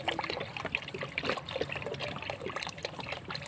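Water pours and trickles steadily into a plastic jerrycan while liquid organic fertilizer is being made, a close, continuous splashing gurgle with no talking over it.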